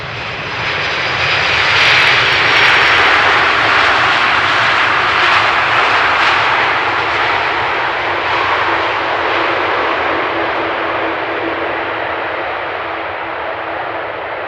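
Airliner landing on runway 18R at Amsterdam Schiphol, a steady broadband engine roar that stays moderately loud and fairly constant throughout, heard from a distance with no talking.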